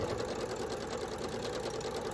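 A sewing machine runs steadily and fairly quietly at an even speed, stitching quilt pieces for a disappearing nine-patch block.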